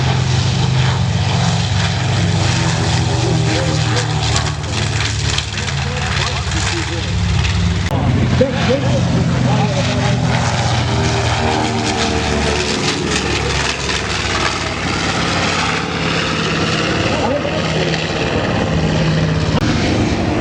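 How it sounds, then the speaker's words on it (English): Light propeller-driven aircraft flying at the Oshkosh airshow, a steady droning engine with wind and crowd noise, with someone talking over it throughout. "light engine powered aircraft."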